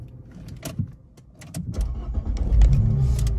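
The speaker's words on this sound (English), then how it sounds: "So when you're ready, start the car for me." A car engine cranks and catches on a learner's manual car, rising into a steady idle rumble after a brief jangle and click, close and fairly loud with no talking.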